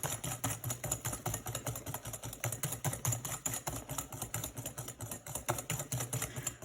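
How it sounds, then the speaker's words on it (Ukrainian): Cookie batter is whisked briskly in a bowl until smooth, a fast, steady run of rapid clicking strokes, close and fairly faint with no talking. "Гарненько до однорідності збиваємо, щоб супер розчинився."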